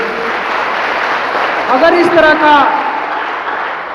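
An audience claps at a cyber security awareness workshop, a steady wash of applause with someone speaking over it.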